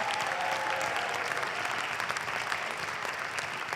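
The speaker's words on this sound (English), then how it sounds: "Let's give them one more round of applause." A school auditorium audience applauds after a high school jazz band finishes a tune at a jazz night, a dense, sustained roar of clapping from many hands that stays loud and even throughout.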